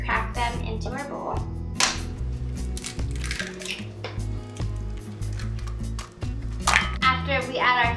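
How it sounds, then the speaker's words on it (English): Three eggs cracked into a bowl for red velvet cake batter bring sharp taps and clinks of shell against the bowl, mixed with nearby kitchen clatter and scattered handling noises at close range. "So we're gonna take three eggs and just crack them into our bowl."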